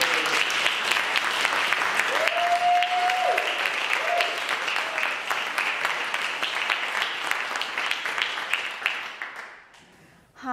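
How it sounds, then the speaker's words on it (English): A live audience at a SPEAKup Challenge event gives a speaker a big round of applause, with sustained dense clapping and a few brief whoops that taper off near the end. "let's give a massive round of applause"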